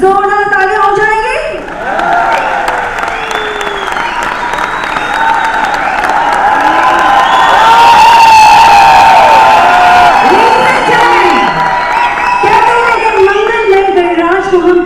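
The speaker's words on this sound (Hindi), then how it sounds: "तो एक बार जरा जोरदार तालियां हो जाएंगी।" A large audience at a 25th-anniversary celebration applauds loudly and cheers throughout, with whoops rising over sustained clapping and voices mixed in.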